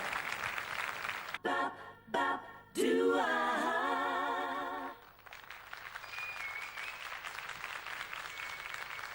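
A studio audience at a televised singing competition applauds, a steady wash of clapping that is briefly broken by loud tonal music and a sung or shouted passage, then continues as lighter applause.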